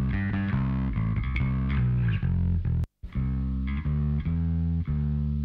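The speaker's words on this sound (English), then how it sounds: "you add high end, you add distortion, this is what happens" A bass guitar plays a heavily distorted, gritty line with sustained notes, briefly cutting out once before continuing.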